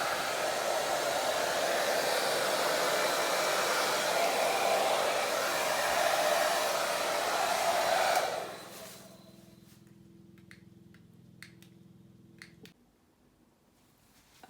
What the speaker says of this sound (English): I think I might stop there with the air dryer and not blow any more.